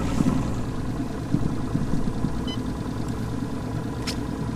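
A fishing boat outboard motor idles on Percy Priest Lake, a steady low, moderately loud rumble with a slight pulsing throb and a couple of brief faint clicks, without talk.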